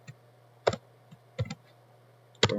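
A computer keyboard gives a few sparse, close key clicks in small clusters over a low steady hum, with no talking.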